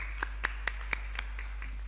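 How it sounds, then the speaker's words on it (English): At a Kenyan leather development policy validation meeting, audience applause comes through as a few sparse, evenly spaced claps, faint against a low steady hum. "another round of applause for Daktari."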